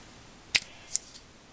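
Martha Stewart craft scissors handled close up, giving two crisp metallic snips or clicks about half a second apart, followed by a faint trailing rattle against quiet.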